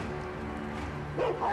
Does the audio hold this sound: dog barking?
yes